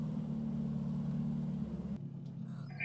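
A Suzuki Samurai drives off-road in second gear on unaired tires, its engine holding a steady low rumble before the note drops and softens near the end.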